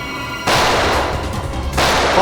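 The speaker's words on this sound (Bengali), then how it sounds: "সিআইডি অফিসারকে গুলি করে দিলি?" Gunfire in a Hindi-language police crime drama, two loud sharp bursts of shots, the first sustained for about a second, then a second burst, close and harsh with no talk.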